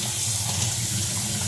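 Warm tap water gushes and hisses steadily into a gas mask, a continuous close, rushing fill with low gurgling underneath and no voices.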